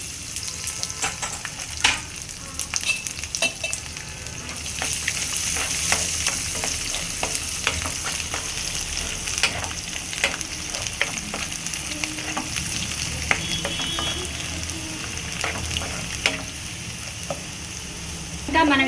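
Onions frying in a pan for gongura pulusu give a steady close sizzle broken by frequent clinks and scrapes of a spoon stirring, loud and continuous throughout, with no speech.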